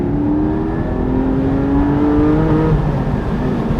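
A Porsche 718 Spyder or Audi R8 V10 Spyder pulls away and accelerates hard through the low gears, its loud engine note climbing steadily and close by with no talking.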